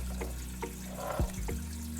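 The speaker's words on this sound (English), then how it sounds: "I am filling it back up with fresh salt water" Fresh salt water pours into the sump of a Red Sea Reefer 625 XXL reef aquarium, a steady splashing trickle over a low pump hum, with a few gurgles and drips, close by.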